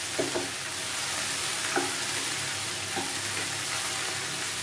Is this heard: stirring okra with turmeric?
yes